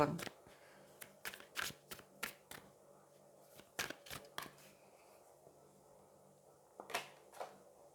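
Tarot cards are shuffled and drawn by hand: a quick run of crisp flicking card snaps, a short pause, a few more, then quiet before two final soft flicks, all close and fairly faint.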